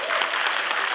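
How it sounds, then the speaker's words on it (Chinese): A concert-hall audience claps throughout a brief burst of dense, even applause at a digital album celebration event, with no pauses. "掌声鼓励一下"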